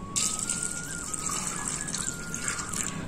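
Water pours steadily into a pot of chickpeas, a continuous splashing stream with a faint ringing tone, close and fairly quiet.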